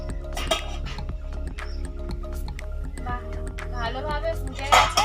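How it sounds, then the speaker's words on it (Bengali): A lid comes off a pot of big boal fish curry cooking in a village kitchen, giving light metallic clinks and scrapes against a low steady hum of simmering. "এবার ঢাকাটা খুলে নেব।"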